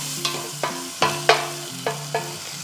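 Garlic sautés in a small amount of butter in a pan, with a soft sizzle broken by six distinct spatula scrapes and stirs spaced roughly every half second, close and clear.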